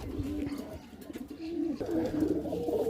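Pigeons in a cage coo in low, throaty, repeated murmurs, several birds overlapping close by against a steady background hum.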